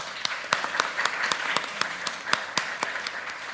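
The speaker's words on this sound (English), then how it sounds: "I think they deserve another round of applause." Audience applause for conference panelists, sparse and fairly close, with a handful of distinct, evenly spaced claps standing out over softer background clapping.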